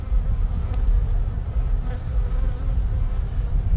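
Bees buzz steadily and loudly in a dense, continuous drone while a colony is being removed from behind a brick wall, with no talking.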